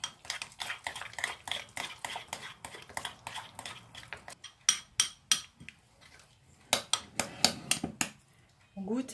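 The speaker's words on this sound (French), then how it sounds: "Et je mélange pour obtenir ma sauce spéciale burger." A spoon mixes burger sauce with onion in a bowl in quick, rhythmic clinking and scraping strokes that pause briefly and then resume, close and fairly quiet.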